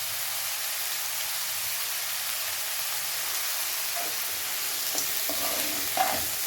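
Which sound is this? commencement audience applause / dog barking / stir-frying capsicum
stir-frying capsicum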